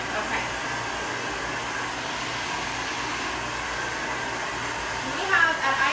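A Neuro Grip blow dryer runs steadily at close range while drying hair in a salon, giving a constant airy whoosh with a faint hum throughout and a brief flutter near the end.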